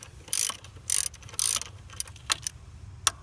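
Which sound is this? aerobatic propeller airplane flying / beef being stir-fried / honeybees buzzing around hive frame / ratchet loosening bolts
ratchet loosening bolts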